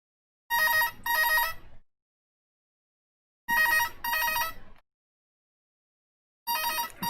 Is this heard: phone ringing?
yes